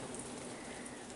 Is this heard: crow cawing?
no